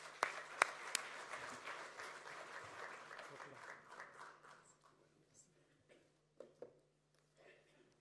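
An audience at a French pharmacy conference on dietary supplements applauds a speaker. The clapping is fairly faint and thins out within a few seconds, leaving scattered claps and a few isolated sharp sounds.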